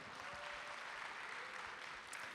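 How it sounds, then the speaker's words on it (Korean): A crowd claps steadily throughout, a dense, even wash of applause heard from a moderate distance. "우리 용감한 우리 형제에게 박수 한번"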